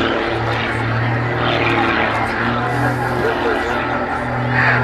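A display aircraft flying snap rolls at an air show roars steadily with a droning propeller engine, loud and continuous, while a commentator talks over it.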